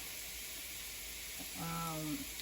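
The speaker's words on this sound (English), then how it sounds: "I'll fry it in this along with the onion." Cashew nuts and raisins fry in butter over a medium flame with onion, making a faint, steady sizzling hiss; a voice briefly hums or speaks over it near the end.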